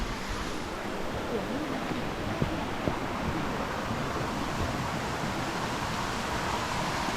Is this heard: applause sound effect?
no